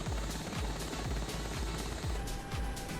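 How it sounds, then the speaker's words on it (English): A helicopter in a VR flight game thuds with a steady, loud rotor beat that fills the scene continuously, with engine whine layered over the rhythmic blade chop. "So some more helicopters here."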